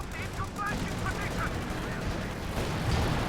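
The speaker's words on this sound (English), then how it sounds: "that infantry support gun gets wiped out by a Calliope barrage" A Calliope rocket artillery barrage in Company of Heroes 2, a dense rumbling roll of distant explosions and crackling fire throughout a large 4v4 battle, with a voice talking over it.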